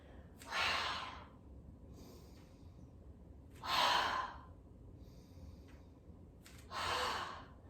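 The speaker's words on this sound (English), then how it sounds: "use that forceful exhale like you're fogging up a mirror to raise that knee" Three forceful exhales during a core exercise, each a breathy, hissing push of air about a second long, close to the mic and evenly spaced a few seconds apart over quiet room tone.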